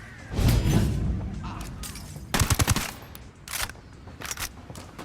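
Bursts of automatic rifle fire in Ghost Recon Wildlands, several loud rapid volleys separated by short pauses with scattered single shots, close and punchy over game ambience.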